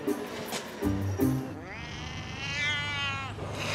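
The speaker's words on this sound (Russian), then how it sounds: "Бегу, на дереве котик мяукает." A cat meows from up in a tree, a long drawn-out wavering cry that rises and holds, heard fairly close after a few seconds of background voices and bumps.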